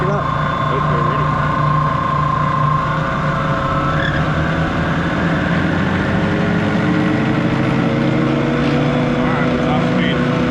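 Prodex 2JSS jacketed high-intensity mixer running, a loud steady motor drone with tonal whine and a rising pitch sweep as it speeds up, continuous and close throughout.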